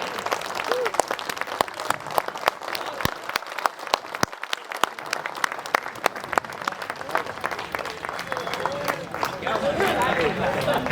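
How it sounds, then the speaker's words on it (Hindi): A standing ovation at a Hindi-Urdu poetry recital (kavi sammelan), sharp scattered claps building into fuller crowd applause, with voices in the audience and a rising murmur toward the end. "एक बार खड़े होके तालियां बजा दे।"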